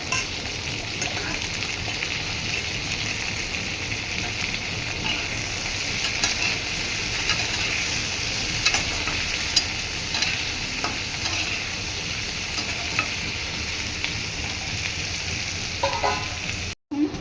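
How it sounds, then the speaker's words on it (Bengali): Potatoes fry together with minced meat in a pan, giving a steady close sizzle with intermittent stirring scrapes throughout, then a brief cut near the end. "আলুগুলো একটু ভাজা ভাজা হোক এটার সাথে সাথে।"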